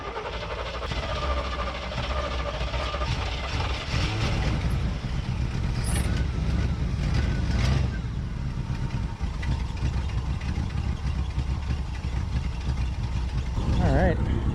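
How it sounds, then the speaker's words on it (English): A 1978 GMC crew cab squarebody truck's engine runs at a steady, rumbling idle, continuous and moderately loud, with a few faint clicks and knocks from the cab over it. "Time to fire up the truck"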